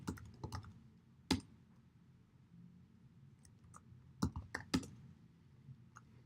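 Sparse bursts of keystrokes on a computer keyboard, a few quick clusters of clicks separated by pauses over a quiet room hum, close and fairly faint.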